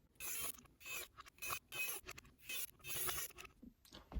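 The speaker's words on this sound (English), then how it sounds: "finally screw our last 6 screws in." Small screws being driven into a NASCAR diecast model car sound as a close, faint series of scratchy ratcheting turns, about eight short bursts in a steady rhythm with brief pauses between them.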